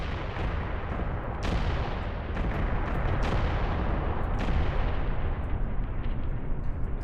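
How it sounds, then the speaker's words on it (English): Gunfire and artillery from the Graviteam Tactics wargame, a dense continuous rumble of shots and blasts with a few sharper cracks standing out, loud and steady throughout. "Looks like they're also firing on us."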